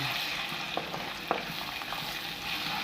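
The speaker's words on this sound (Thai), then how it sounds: "ไข่สุกแล้วเราก็คน" Egg and cucumber are being stir-fried in a pan, giving a soft, steady sizzle close by with a few light scraping stirs and clicks, fairly quiet and with no voices.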